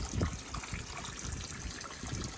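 Water from an aquaponics inlet runs into a plant grow bed with a soft, continuous trickling splash that stays steady and fairly quiet from start to finish.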